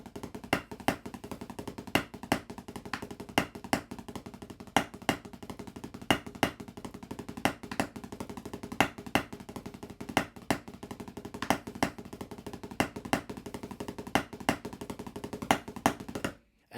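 Drumsticks on a Prologix Blue Lightning practice pad play a steady, slow stream of accented double strokes, crisp close taps with regular louder accents, continuing alone for the whole stretch.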